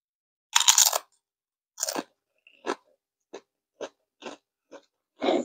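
Crunching and chewing on an everything bagel snack, close and loud: a couple of heavy crunchy bites followed by a steady run of smaller chewing crunches with silence between, no talk.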